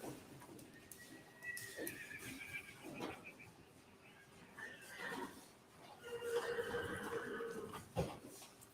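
A seven-year-old spotted saddle horse gelding whinnies in loud, shaky neighs, with a faint hoof clop and a muffled voice in the background.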